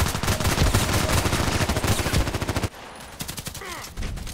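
HK417 rifle gunfire in a video game, rapid loud bursts of shots in a dense rhythmic stream, then a brief lull and a few more quieter shots at the end.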